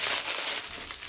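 Plastic bags crinkle and rustle up close in a dense, continuous crackling that shifts in loudness as they are handled, with no voices.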